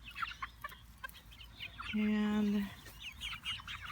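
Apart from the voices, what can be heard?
chickens clucking, ISA Brown, Asian and Barred Rock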